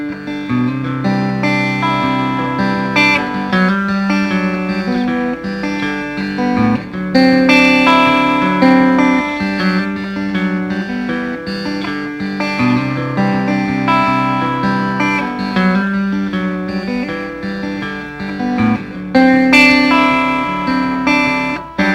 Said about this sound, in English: here's one example that's kind of like a banjo technique, where I'll be picking with my second and third fingers of my right hand